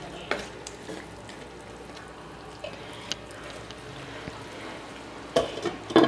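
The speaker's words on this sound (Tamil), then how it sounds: "லைட்டாக சிக்கனை வந்து நல்லா கிளறி விட்டுக்கோங்க" Chicken frying in a pan for Tamil pepper chicken, being stirred: a soft, steady sizzle with scattered scraping and clinking spoon strokes, louder toward the end.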